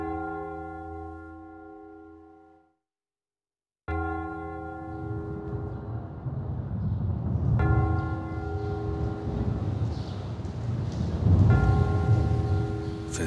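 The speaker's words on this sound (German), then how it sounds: "Jo, die Glocken." Church bells ring out on a rainy day, resonant tones sounding steadily for over ten seconds after a short gap, with a low rumbling noise underneath and no voices.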